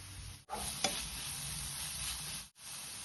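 Vegetables sizzle steadily in a hot pan as a spoonful of green chili sauce is poured in, a sharp splash near the start, then continuous close frying hiss with brief breaks, no voices.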